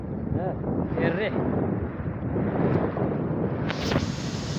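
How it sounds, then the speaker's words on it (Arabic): Strong wind buffets the microphone on a beach at Sidi Ifni, a steady loud rumble through the whole stretch, with people talking briefly beneath it. "هي الريح"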